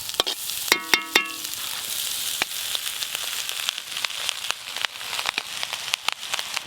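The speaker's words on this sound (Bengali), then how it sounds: "ডিম আর সবজি একসঙ্গে ভাজা হয়ে গেল ভালো করে। এবার ভাতগুলো দিয়ে দেবো।" Egg and vegetables stir-frying together in a pan for fried rice give a loud, close sizzle broken by sharp, regular clacks of a spatula against the pan, with no talking.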